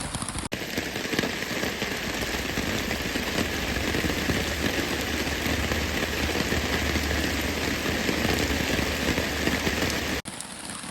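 Heavy rain pours steadily onto a creekside hiking trail in the foothills, a dense, continuous hiss and patter at close range with a low rumbling undertone, unbroken and loud throughout.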